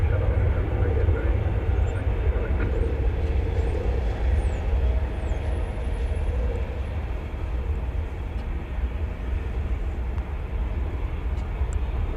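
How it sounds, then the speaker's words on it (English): A DHL cargo aircraft taxis over a bridge at DFW Airport, heard as a loud, steady low engine roar and rumble from outdoors, with faint voices mixed in. "here's the DHL going over the bridge to the east side of DFW Airport"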